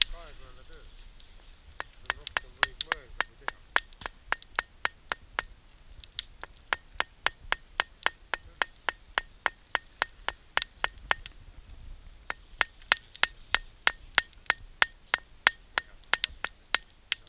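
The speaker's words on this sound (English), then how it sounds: "crafting a knife from white hot steel, using a hammer and a round stone" Steady, rhythmic hammer blows ring out on white-hot steel being forged into a knife on a round stone outdoors, sharp metallic clinks repeating about twice a second with brief pauses between runs.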